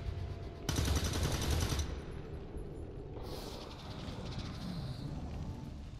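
Overwatch gunshots from soldiers in XCOM 2: War of the Chosen: a loud, dense burst of rapid fire lasts about a second, then a sharper crack and ringing tail follow against the game's background noise.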